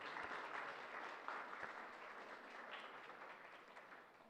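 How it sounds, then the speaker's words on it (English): Audience applause for a speaker at a symposium, a faint, distant round of clapping with a few sharper individual claps, gradually tapering off. "All right, round of applause for Gabby."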